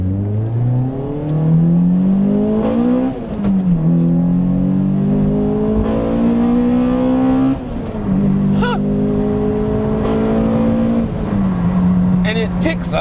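A Toyota Matrix XRS with an aftermarket intake revs hard in repeated climbing pulls. Each pull rises in pitch, drops briefly at a shift, then climbs again, loud and close throughout.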